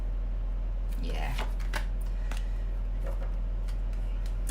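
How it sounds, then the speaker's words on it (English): A deck of tarot cards is shuffled by hand with a string of quick crisp riffles and slaps over a steady low hum, close to the microphone. "these cards are not that easy to shuffle"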